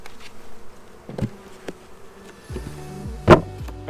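Honeybees buzzing around opened full-size beehives on a farm, a steady low insect drone with individual bees passing close by, plus a few light knocks of hive equipment.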